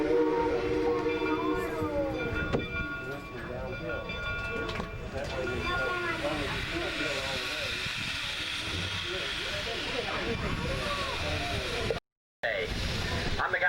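A train on the Cass Scenic Railroad rumbles and hisses steadily nearby, with mechanical clanking and a faint whistle-like tone, while people talk over it.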